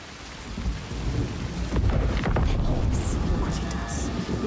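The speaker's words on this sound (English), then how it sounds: "The rain never stops." Rain pours steadily in Senua's Saga: Hellblade II, a dense hiss with low rumbling like distant thunder, while voices speak faintly over the downpour.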